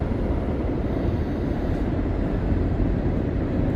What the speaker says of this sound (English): We've missed the train.